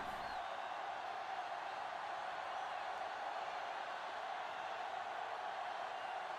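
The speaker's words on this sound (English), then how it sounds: "Crowd going wild here as we're in the closing moments of this game." Stadium crowd noise from a video game football match in its closing moments, a steady broad roar of cheering that holds at an even level throughout without letting up.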